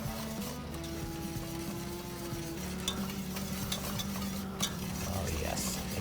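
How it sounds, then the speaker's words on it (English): Turkey gravy being whisked in a pan, a steady scraping, stirring rattle with a low sizzle underneath, continuous and close for the whole stretch. "And never stop whisking."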